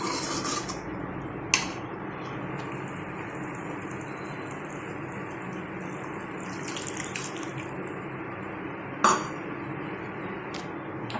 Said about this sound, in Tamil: இப்போ நம்ம புளிக்கு ஊற்றிக்கலாம்